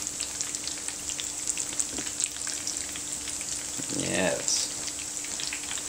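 Potato balls frying make a quiet, steady crackling sizzle with scattered pops and a brief louder rustle near the end, while a single word is spoken.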